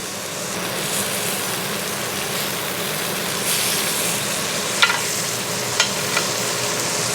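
A New York strip steak sears with a chunk of butter on a Lodge cast iron griddle, giving a loud, continuous close-up sizzle with a few sharp spatters near the end.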